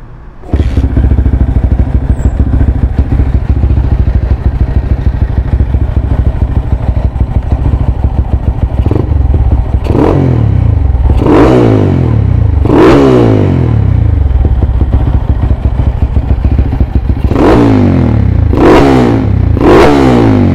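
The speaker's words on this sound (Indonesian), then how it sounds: "jom kita dengar bunyi engine dia macam mana" Converted Yamaha X1R motorcycle with a six-speed conversion runs steadily at close range, punctuated by several sharp throttle revs that rise and fall, bunching into quick blips toward the end; no talking.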